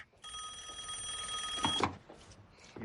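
Telephone on an intercepted line rings with a single sustained electronic bell tone lasting over a second, loud and close, then cuts off abruptly.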